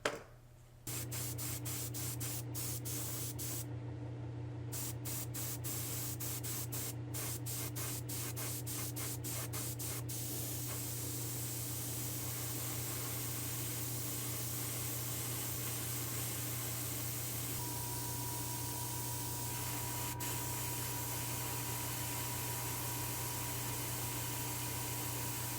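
Spray paint hisses continuously onto a vintage Matchbox off-road model van, a long, steady, close airy spray with a few brief clicks near the start.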